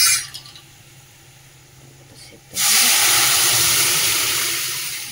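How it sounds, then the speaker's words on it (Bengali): Lentils drop into a hot oil tempering with turmeric. After a quiet, faintly hissing start, a sudden loud burst of sizzling erupts and continues strongly, slowly tapering off. "এবার ডালটা ফোড়ন দিয়ে দেবো"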